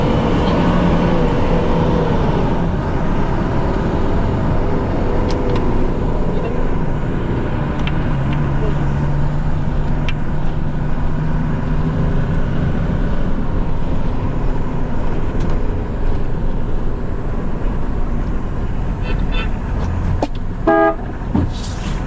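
A bus rolls along a busy road in Jamaica after leaving a bus park, its engine droning loudly and steadily throughout, with horn toots and passing traffic near the end and occasional voices in the background.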